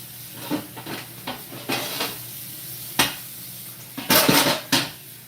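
Someone washes a pan in a kitchen sink, making a string of sharp metallic clanks and knocks at uneven intervals, close by and with no talking.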